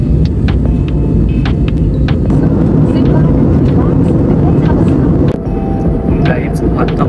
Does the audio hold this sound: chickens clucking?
no